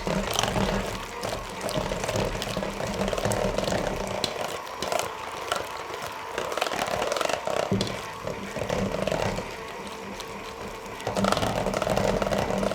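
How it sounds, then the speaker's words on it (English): A hand mixer whirs steadily as it blends a keto cheesecake parfait mixture, a continuous buzzing drone with slight changes in pitch and rattling as it moves through the thickening mix. "then you're gonna take your hand mixer and you're gonna blend it"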